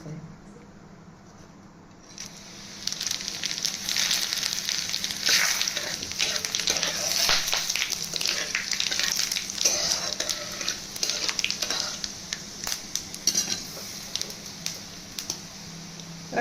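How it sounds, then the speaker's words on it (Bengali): Whole spices for a Hyderabadi paneer tempering (dried red chili, cumin, black pepper, cloves, cinnamon, cardamom and a bay leaf) hit hot oil and erupt into a loud, steady sizzle that crackles on for over ten seconds after a quiet start. "এবার ফোড়ন দেওয়ার জন্য যে রেখেছিলাম শুকনো লঙ্কা, জিরে, গোলমরিচ, লবঙ্গ, দালচিনি আর এলাচ, এগুলো তার সঙ্গে একটা তেজপাতা মিশিয়ে দিয়ে দেবো।"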